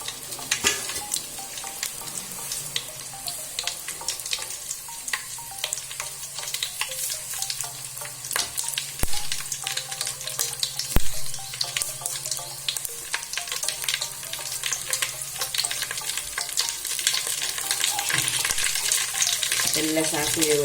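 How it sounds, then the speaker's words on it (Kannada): Mustard seeds frying in hot oil, a continuous fine sizzle peppered with sharp pops and crackles that persists throughout, close and moderately quiet. "ಸಾಸಿವೆ ಹಾಕ್ತಿದ್ದೇನೆ."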